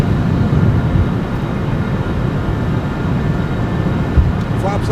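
A Citation Sovereign+ business jet climbs out heavily after takeoff, a steady loud broadband engine roar and rushing wind filling the cabin with no pauses, a faint click near the end.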